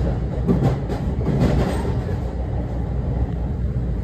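A commuter train rumbles steadily with low, continuous rail noise and faint clatter, close and fairly loud, slowing as it approaches Madison station, New Jersey.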